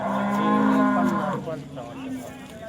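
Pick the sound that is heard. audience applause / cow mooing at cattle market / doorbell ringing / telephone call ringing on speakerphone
cow mooing at cattle market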